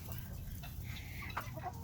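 Chickens in a pen cluck softly and intermittently over a steady low background hum, close by, with no talking.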